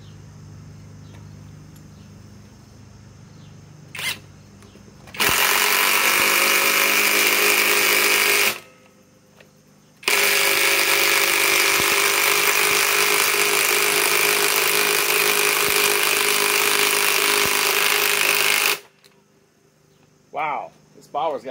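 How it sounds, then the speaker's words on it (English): A Flex cordless impact wrench rated at 250 foot-pounds, running on a Flex 3.5 stacked lithium battery, drives 6-inch lag screws in two loud, sustained hammering bursts, a short one and then a longer one of about nine seconds, close up. "Impact wrench."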